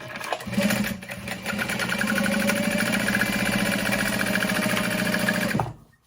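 A sewing machine stitching backpack lining runs in a fast, steady mechanical chatter for about five seconds, close and loud, then stops abruptly.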